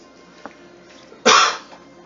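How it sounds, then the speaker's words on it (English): A single sharp cough bursts out after a small earlier catch, loud and close, with near silence around it. "It's coughing."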